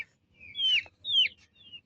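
Chickens weakened by rain, giving a few short high-pitched calls, three separate chirpy clucks spaced across a quiet background, faint and close.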